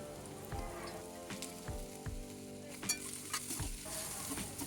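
Chopped tomatoes, ginger-garlic paste and cashews sauté in a pan, with a faint steady sizzle and a few soft, irregular stirring knocks, quiet and close, with no voices.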